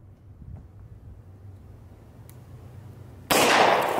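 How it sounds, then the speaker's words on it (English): A .22 Long Rifle round fired from a Standard Manufacturing S333 double-barrel revolver outdoors, one sharp loud crack arriving late after a quiet windy stretch. "Let's try the 22 long rifle. See if it works."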